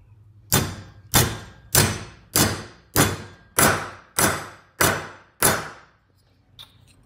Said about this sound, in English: Then I'm gonna hammer it so it's perfectly fitted to that.